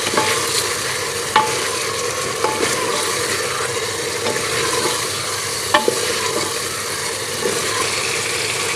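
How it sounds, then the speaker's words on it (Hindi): Beef and coarsely crushed green chilies stir-fried in a pan, with a steady sizzle and frying hiss under repeated scraping strokes of a spoon against the pan, close and continuous. "हरी मिर्चों को भी भून लेंगे।"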